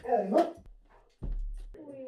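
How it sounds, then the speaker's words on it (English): A dog barks in short bursts indoors, close and fairly loud, with someone speaking before and between the barks. "Jessie's here and Maya's barking."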